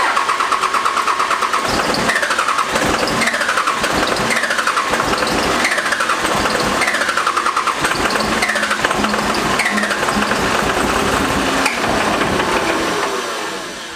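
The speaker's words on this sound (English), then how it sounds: "then we can get to attempting to start this truck up" A 12V Cummins diesel truck with a 5-speed is cranked over and over, its starter churning in a steady repeating rhythm of loud, close strokes as the engine struggles toward life.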